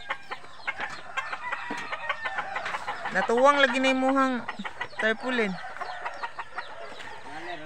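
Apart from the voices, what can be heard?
chickens clucking and crowing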